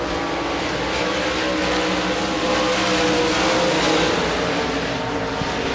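Modified race cars roar around Devils Bowl Speedway in a steady, loud, dense engine drone that swells and fades slightly as the pack passes, with no talk over it.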